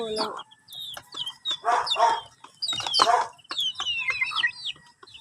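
Small chicks on a farm chirp and cluck in quick repeated calls, loud and close, with some faint softer cheeps between them; no one talks.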